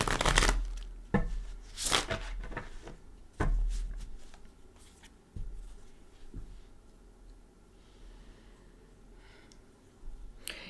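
Gilded Tarot cards being shuffled by hand. Several soft riffling bursts and taps are close up and spaced irregularly, fading to a quieter rustle.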